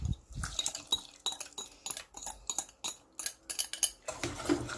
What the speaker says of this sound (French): Je vais remuer jusqu'à ce que ma crème devienne épaisse